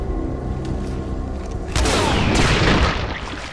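A gunshot rings out in the video game Singularity, a sudden loud broadband blast that jumps in level partway through and stays heavy for a second before trailing off, over a steady hum of game ambience.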